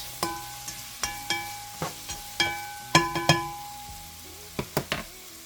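A utensil stirs Creole seasoning, garlic powder and parsley around a frying pan, sounding as a series of sharp metallic clinks and scrapes over a low background sizzle, close and fairly quiet.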